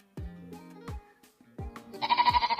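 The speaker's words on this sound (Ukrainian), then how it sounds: "Усі ми знаємо, що вівці мекують та бекають" Sheep bleat in several short, wavering calls, fairly close and alone, the last call longer with a strong quavering tremble.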